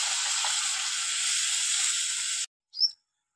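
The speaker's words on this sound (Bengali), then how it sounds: "তরকারি ফুটছে দেখুন" A taro and curry mixture bubbles in a pan with a steady, moderately loud seething sizzle. The sound cuts off abruptly, followed by a brief high chirp in near silence.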